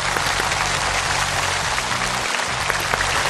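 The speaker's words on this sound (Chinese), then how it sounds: "来，掌声欢迎郭主任。" A studio audience applauds to welcome a guest at a health talk show, dense steady clapping filling the whole stretch, loud and close.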